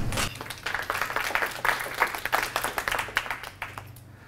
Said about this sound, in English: let me have a round of applause for William.